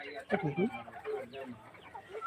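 Backyard chickens peck at moringa leaves, making short clucks close by. A voice talks over them.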